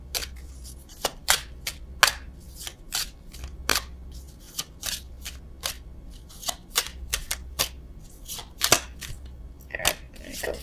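Love oracle cards being shuffled by hand, a rapid series of sharp crisp riffling clicks and flicks in irregular bursts, close and fairly quiet, with no talk.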